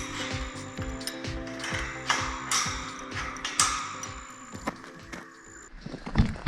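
A steel farm gate fitting being tightened, giving a close, steady run of ratcheting clicks with metal gear and latch noises and a few louder knocks near the end.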